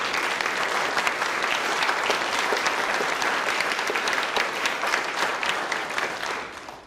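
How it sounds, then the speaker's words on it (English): A school centennial celebration audience gives the committee a hearty round of applause: dense, loud, continuous clapping from a large crowd, steady for nearly seven seconds without talk. "They deserve a great round of applause."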